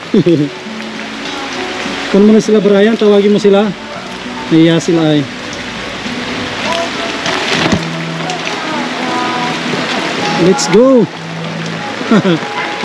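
Rain keeps up a constant hiss on a flooded work site while several people talk loudly and call out over it, their voices rising and falling above the steady downpour.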